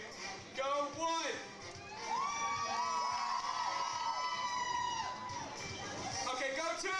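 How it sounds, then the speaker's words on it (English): An audience section at a Six Flags AstroWorld Looney Tunes show jumps and screams on cue: a loud, sustained wave of cheering and shrieking from a crowd of children and adults, swelling and holding for several seconds. "I want y'all to jump up in the air and scream whatever I tell you"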